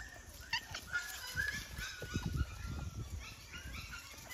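Two purebred male Naga dog puppies whimper and yip softly, in short, close, irregular bursts over a quiet background.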